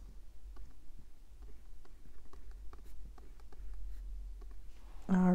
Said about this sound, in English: I'm going to write that down right here.